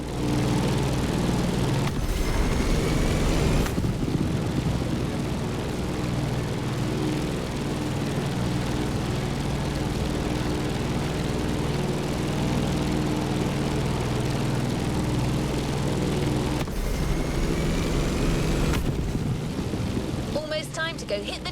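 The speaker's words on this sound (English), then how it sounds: "So we decided to go aerial, vintage, and bold with the Grumman Bearcat F8F." Steady droning piston engine of a vintage Grumman Bearcat F8F aircraft in The Crew Motorfest, a continuous loud buzzing hum with a few brief transient bursts near the start and end.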